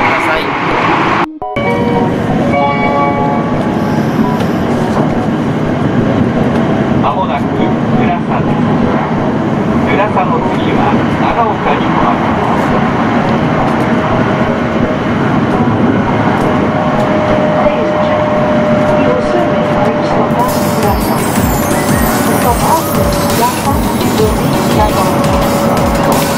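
A Toki Shinkansen train roars through a tunnel, heard loud and close from inside the carriage. The noise is a dense, continuous rumble that holds steady for the whole passage.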